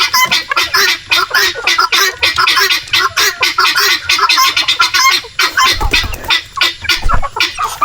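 Chickens in a pen cluck loudly and continuously, many overlapping calls in a dense, busy chorus close by, with no clear human voice.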